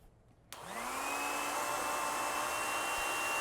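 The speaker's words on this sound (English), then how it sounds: "So now, I'm going to blow dry this." A hair dryer switches on with a click and spins up to a steady, loud whooshing roar close by, drying a watercolor painting, with its motor whine rising and settling into a constant tone.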